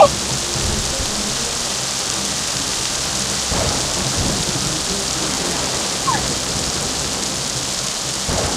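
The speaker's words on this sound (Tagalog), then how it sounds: "Ulan lang to at kidlat." Steady, heavy rain pours down in a forest while deep rumbles of thunder roll through, one swelling louder near the middle.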